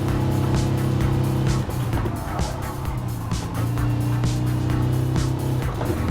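Race car from Gran Turismo Sport cornering at about 130 at Le Mans, its engine droning steadily and loud throughout, pitch dipping and rising through the bend with faint tire noise, no talking.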